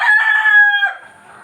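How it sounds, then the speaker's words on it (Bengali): Egyptian Fayoumi chickens on a laying farm, with one loud close rooster crow sustained for nearly a second and then fading into softer trailing clucks. "এটাকে বলা হয় ডিমের রানী মিশরীয় ফার্মি মুরগি"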